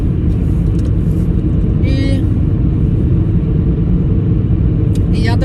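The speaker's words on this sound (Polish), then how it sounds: "W końcu jadę, słyszę mój silniczek." A car engine rumbles steadily from inside the vehicle, a low continuous drone throughout, with a couple of brief faint voice sounds over it.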